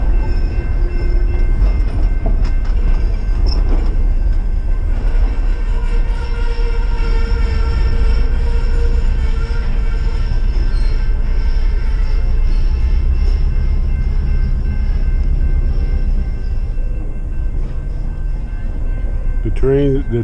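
The Beach Train rolls past at close range for a long stretch, a loud continuous rumble and wheel noise with a faint horn tone running through it, while people talk nearby.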